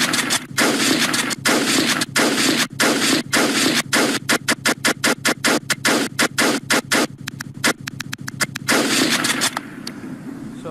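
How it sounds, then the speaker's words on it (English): AK-47 and M4A1 rifles fire in a Unity video game in rapid, repeated bursts. Sharp cracks come close and loud, some as fast strings of single shots and others as short automatic bursts with brief gaps between. "So as you can see, we can shoot with AK-47. We can shoot with M4A1"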